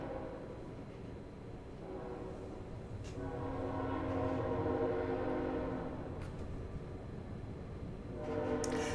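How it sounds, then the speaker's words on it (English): A train rolls past at a distance with a steady low rumble of wheels, and a long sustained horn blast swells in the middle and fades, with no talking. "Hear that train?"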